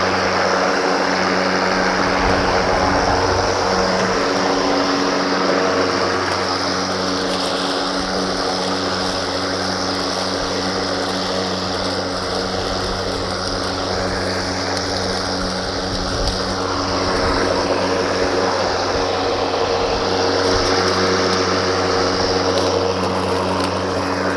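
Milwaukee M18 Fuel battery lawn mower running at a steady, fairly loud hum with a constant whine and faint mechanical rattle, self-propelling across grass with no talking.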